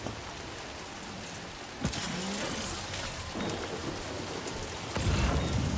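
A thunderstorm in the video game Death Stranding 2 brings steady rain hiss with a sharp thunder crack partway through and a deeper rumble swelling near the end.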